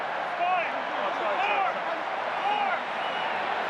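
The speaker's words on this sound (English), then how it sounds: "Big buzz around the crowd." A large stadium crowd murmurs and buzzes steadily, with overlapping voices swelling slightly in waves.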